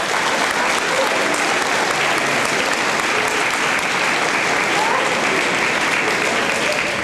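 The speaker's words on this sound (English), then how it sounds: "Another round of applause to the band" A school assembly audience at a Fort Gratiot Veterans Day celebration gives the band a loud, dense round of applause, many hands clapping steadily throughout with no talk on top.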